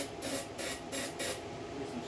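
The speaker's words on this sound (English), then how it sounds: "Get some starting fluid down there." Starting fluid is sprayed into the engine of a pressure washer in short, close aerosol bursts, about four hissing puffs in quick succession.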